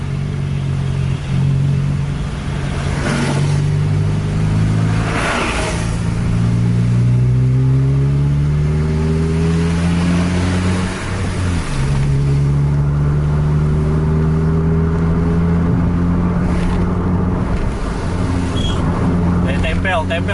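Double-decker bus engine revving hard while overtaking at speed on a road, its pitch climbing and shifting through gear changes over twenty seconds, loud and continuous with wind and road roar.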